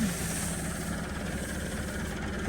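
A Massey Ferguson MF 385 tractor running with a 2025 Arkus Industry super seeder attached in a wheat field in Punjab, Pakistan. A steady, loud, low engine drone holds without a break from start to end, with no talk.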